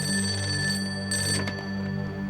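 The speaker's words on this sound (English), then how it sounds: "Leonard gets a phone call." A telephone ringing in a scene from the 2000 film Memento, a sustained bell-like ring with sharp tonal overtones over a low hum, fairly loud and steady with a brief clatter midway.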